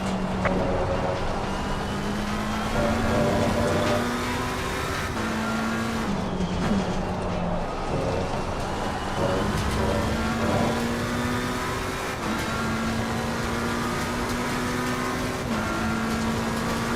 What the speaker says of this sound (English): Slow car ahead.